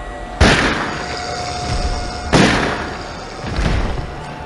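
Gunshots in the mobile game Fear The Walking Dead: Dead Run, two loud booming shots spaced about two seconds apart and a softer third report, each trailing off in a reverberant tail over steady background noise.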